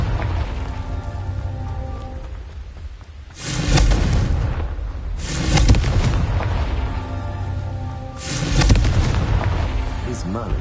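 Confringo blasting spells in a wizarding video game, three heavy booming explosions a few seconds apart, each rumbling and crackling before fading, loud and close over a quieter ambient bed.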